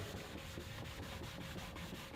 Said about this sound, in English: Here you can see I've now switched over to a larger rubber sanding block.